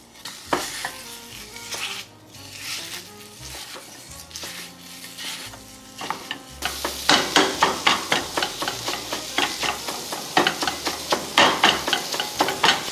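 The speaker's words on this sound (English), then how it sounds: "While the sausage is cooking," Ground sausage fries in a pan over medium heat with a steady sizzle, broken by repeated rhythmic scraping and stirring strokes that grow louder and faster in the second half; no talking.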